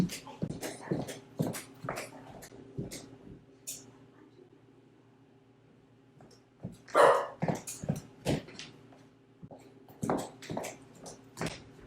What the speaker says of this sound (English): At the door, the dog is barking.